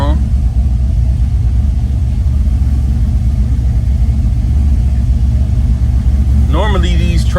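A 1978 Oldsmobile Cutlass engine runs at a steady idle, giving a loud, continuous low rumble that fills the whole stretch, with a brief voice near the end.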